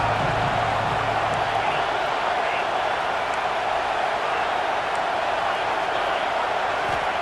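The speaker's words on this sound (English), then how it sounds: "This Auburn crowd trying to conjure up a little magic here on 3rd down" A dense, constant roar from the crowd at an Auburn football game on third down, loud and unbroken, with a voice faintly audible beneath it.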